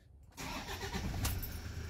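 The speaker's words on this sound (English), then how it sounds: "then just start the car again with that disconnected" A Toyota Hilux with a fuel tank vacuum fault is started, the engine cranking and catching after a short quiet pause, then settling into a steady, close idle.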